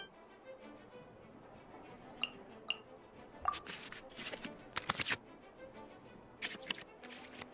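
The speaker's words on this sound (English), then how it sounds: "we can select any number of cards in our hand to shuffle back into the draw pile" Cards shuffle in the Genius Invokation TCG card game within Genshin Impact: a couple of soft ticks, then quick bursts of crisp riffling and flicking, quiet overall.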